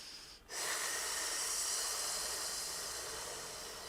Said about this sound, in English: Breathe in, long breathing out so your parasympathetic system stay on.